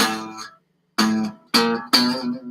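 A single guitar note, B, plucked four times, the first ringing out, then a pause and three quick repeated plucks, close and clear.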